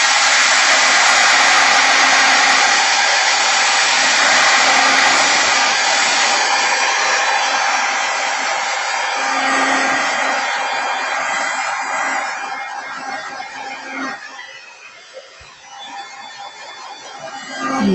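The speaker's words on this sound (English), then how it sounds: "I'm just going to hit this with the blower a little" A craft heat tool blower dries ink on a die-cut paper project, blasting a loud, close, continuous whoosh that wavers slightly and then tapers off near the end. No talking is heard.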